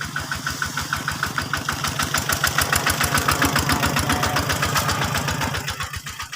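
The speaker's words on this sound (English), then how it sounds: "You see the tractor is coming here." A tractor engine chugs loudly and steadily with a fast, even knocking rhythm, growing slightly louder as it approaches and then easing off near the end, with no talking over it.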